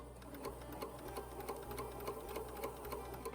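A sewing machine stitches a romper seam with a quiet, continuous rapid clatter, fairly faint and alone without talk.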